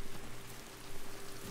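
Steady rain falls outdoors in the video game Generation Zero, a continuous, even hiss with a faint low hum underneath and no voices.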